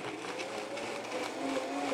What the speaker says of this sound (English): Now, I'm using a high-speed blender here, and it's very powerful and will chop up all of the skins of the chilies.